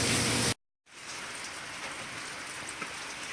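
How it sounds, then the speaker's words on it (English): Rain from the tail end of a tropical depression pours down at night in a dense, steady hiss of drops on surfaces. A loud burst is followed by a brief gap, then the downpour continues evenly with no voices. "Crazy rainy night. It's the end of a tropical depression."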